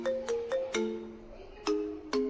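A phone's message notification tone sounds as a series of bright, bell-like chime notes in quick clusters, with a pause and then two more chimes, close and moderately loud in a quiet room.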